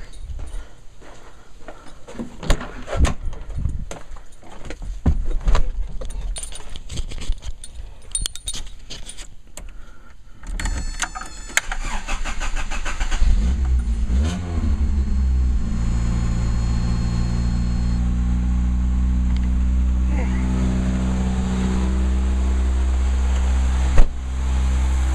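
Rattling and clicking, like keys in an ignition, followed by a car engine with an Aisan carburetor cranking and catching. It then settles into a steady, loud idle.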